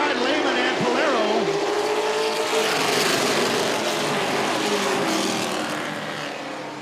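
Race cars roar in a 35-lap main event at a dirt or short-track oval, several engines running at once in a loud, continuous drone with a brief tire squeal near the start and a slight fade at the end.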